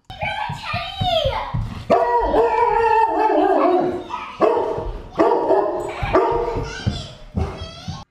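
A dog barks, yips and howls excitedly at a visitor, close and loud in repeated bursts across the whole stretch, with no talk over it.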